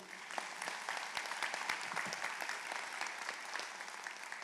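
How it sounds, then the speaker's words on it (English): A crowd applauds steadily at a medical school white coat ceremony, a dense patter of clapping that holds at an even level throughout. "So one more quick round of applause for Dr. Cohen, please."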